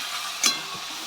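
Green chili paste, ginger, garlic and cumin sizzle in a pan for chhatu curry, a steady hiss with a brief stirring scrape in the middle.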